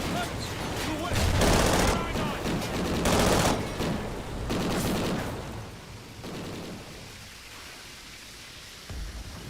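Bursts of machine gun fire in Call of Duty: Ghosts combat, several dense rattling volleys loud at first then fading into noisy background, with voices calling out over it.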